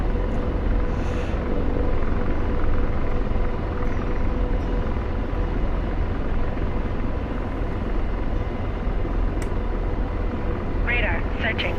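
An Apache attack helicopter in the DCS flight simulator gives a steady, loud rotor and engine drone throughout, with a voice talking over it.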